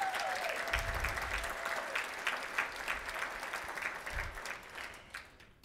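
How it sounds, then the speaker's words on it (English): A room full of people at a Rotary conference keynote applauds warmly, steady clapping throughout that gradually thins out and fades near the end. "Let's give her a round of applause"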